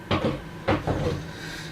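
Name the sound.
wooden workbench cabinet door being handled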